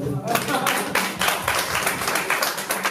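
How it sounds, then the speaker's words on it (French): A conference audience at a women's entrepreneurship forum breaks into clapping, a brisk, moderately loud burst of many hands that goes on for a few seconds. "ça s'applaudit"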